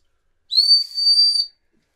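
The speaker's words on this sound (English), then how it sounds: "the half-time whistle went" A single sharp half-time whistle blast, loud and close, lasting about a second with a brief dip midway, then silence.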